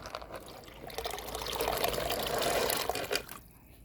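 Water poured over pork pieces for a Jamaican pork soup in a backyard kitchen, a steady splashing stream that builds and then tapers off, close and alone.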